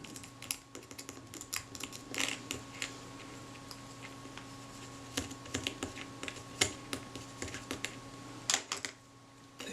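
A graphite pencil scratches and taps around the inside edge of a 35mm film camera part during restoration, giving quiet, close, irregular dry ticks and short scrapes in quick succession.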